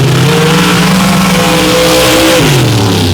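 A modified-class drag racing car launches hard off the line at a dirt track, its engine roaring loud and close, revving steadily before the pitch drops sharply as it shifts.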